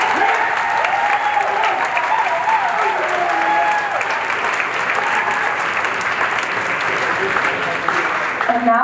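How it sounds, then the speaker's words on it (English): Steady, sustained audience applause fills a high school spring concert hall, dense and even throughout with scattered crowd noise and a few faint voices. "Can we have a round of applause for Mrs."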